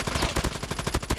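Rapid automatic gunfire in Call of Duty Mobile, a fast rhythmic burst of close, punchy shots in quick succession.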